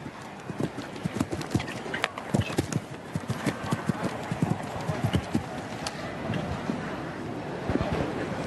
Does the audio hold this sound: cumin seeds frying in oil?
no